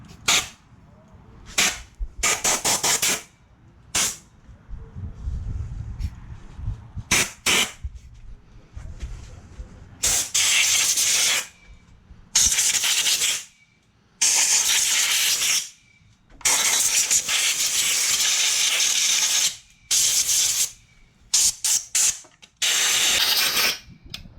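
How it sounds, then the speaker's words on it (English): Air compressor nozzle blowing air in loud, hissing bursts of varying length, several short and several longer blasts separated by quiet gaps, during work on a free Craftsman string trimmer. "I got the air compressor"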